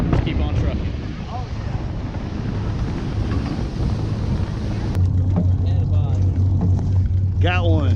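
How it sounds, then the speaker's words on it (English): Three Detroit marine-grade diesel engines drone in a steady low hum on a fishing boat off the Carolina coast, with wind buffeting the microphone and water noise; a voice speaks briefly near the end. "We got 3 Detroit Marine grade diesel engines pushing us out that way."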